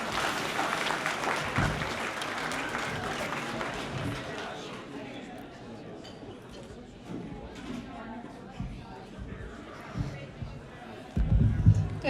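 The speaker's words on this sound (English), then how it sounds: "Let's give her a round of applause." Applause from a seated audience at a Ronald McDonald House Charities gala, steady clapping in the opening seconds that fades into crowd murmur and chatter, with scattered bumps and rustling near the end.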